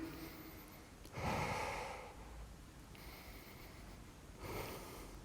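Breathing during an offset goblet squat hold: two sharp, forceful breaths, one near the start and another near the end, with a softer exhale between them, close and alone with no talk.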